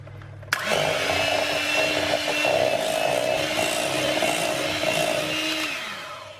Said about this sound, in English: now we're going to whisk it until it's nice and smooth and creamy.